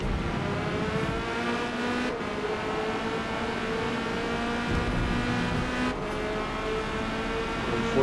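Corvette C8.R race car at Silverstone GP in a racing video game: a steady, loud engine drone with sustained high revs and small pitch shifts during gear changes, continuous for the whole stretch.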